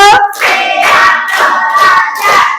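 Students in a classroom doing a counted tepuk ice-breaker, clapping in unison in a steady pattern of five close, loud bursts separated by brief gaps, with some voices shouting along.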